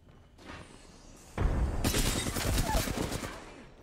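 Video game combat with a grenade blast followed by dense, rapid gunfire that rises sharply and keeps rattling loudly for a couple of seconds, while a voice talks over it.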